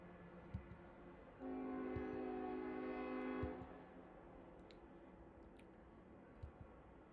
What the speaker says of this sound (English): Why do these trains have to be so loud in the night?